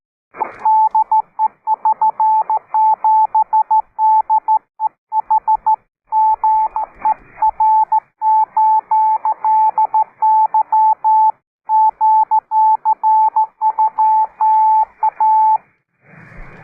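Morse code CW sent over a shortwave radio net on 3729 kHz, a loud steady tone keyed in rapid on-off dots and dashes for about sixteen seconds, alone with no voices.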